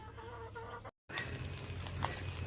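Backyard hens cluck and call in short, quiet bursts, broken briefly by a moment of silence before the clucking resumes.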